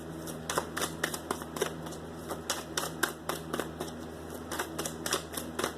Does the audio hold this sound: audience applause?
no